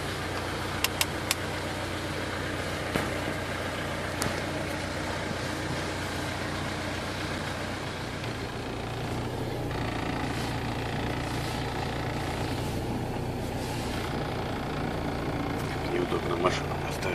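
A Mitsubishi Pajero engine idles steadily with a low, continuous rumble throughout, with a few faint clicks and brief talk in the background.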